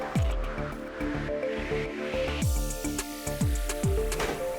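Water is pushed into the hydraulic tubes of a DIY robotic cyborg hand kit, giving soft squishy gurgles and a few short plunging slurps close up, with no one talking.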